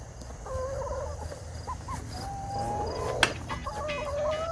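A group of eight calm Plymouth Barred Rock hens cluck and chatter softly nearby, short pitched calls rising over a steady low background hum.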